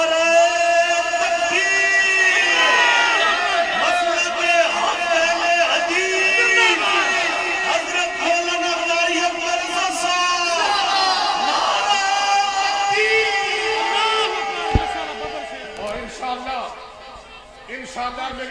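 Large crowd at a religious gathering in Sheikhupura chanting a slogan in loud call-and-response bursts, many voices rising and falling in rhythmic waves over about eighteen seconds, fading near the end.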